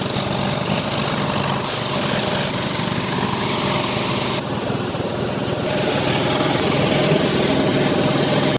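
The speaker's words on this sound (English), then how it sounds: "Let's break out that power washer." A power washer runs loud and steady at close range while blasting clean a backyard offset smoker, its motor droning continuously with a constant spray hiss and no voices.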